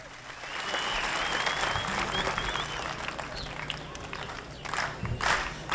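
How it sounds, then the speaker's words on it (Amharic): Audience applause at a Shadey festival celebration following an Amhara regional president's speech, a sustained crowd of clapping hands swelling to a steady roar with a few louder cheers near the end. "ሞቅ ባለ ጭብጨባ ተቀበሉልን"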